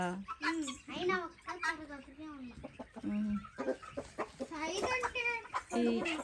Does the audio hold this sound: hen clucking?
yes